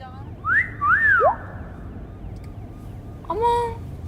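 A comedic police car siren sound effect in a high school detective sitcom: two short bursts of sliding, whistle-like wailing tones, the first longer and swooping, the second brief and rising, over quiet background.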